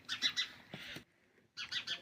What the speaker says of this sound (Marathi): तुम्हाला पक्ष्यांचा आवाज येत असेल,